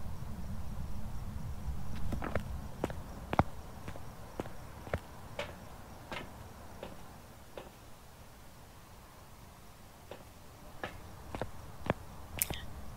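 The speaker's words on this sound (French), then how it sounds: "Va falloir reconnaître au bruit de pas." Footsteps in the ghost-hunting game Phasmophobia during a Christmas event, a steady run of sharp, fairly close taps against a low rumbling background with faint chirping, quiet overall with no talk.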